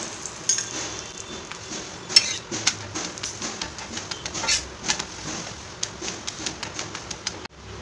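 A chapathi being cooked and turned over repeatedly on a hot pan, heard as a series of light taps and scrapes against the metal over a soft continuous sizzle, with no voices.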